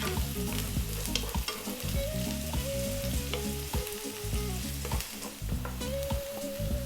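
Chopped onion and a tablespoon of garlic sizzle in a pan over high heat, a steady, close frying hiss broken by the scrape and clatter of stirring.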